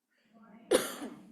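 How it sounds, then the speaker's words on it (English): A single short, raspy cough from a speaker at a health disparities roundtable, close and fairly loud, preceded by a soft throaty breath. "I apologize in advance for this coughing."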